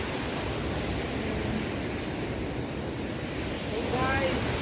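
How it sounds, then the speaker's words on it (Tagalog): Large ocean waves roll in at Pangpangan, a loud, continuous rushing surf roar blended with wind buffeting the microphone and swelling slightly toward the end. "Ang laki ng alon."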